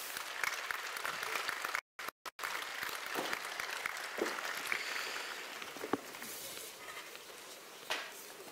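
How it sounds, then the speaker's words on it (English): A university graduation audience applauds a symphonic wind ensemble, a continuous, fairly quiet patter of many hands heard from some distance, with brief dropouts and a few louder claps. "Let's give them a round of applause."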